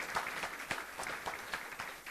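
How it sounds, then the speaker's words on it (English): An audience at a politics panel event applauds a newly introduced UW-Madison political science professor, with steady, dense clapping from many hands filling the room. "Please applaud."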